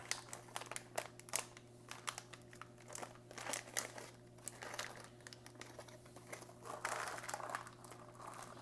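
An MRE cranberry packet being ripped open and handled, heard as close, quiet crinkling and crackling of plastic packaging in uneven bursts over a low hum, with no talking.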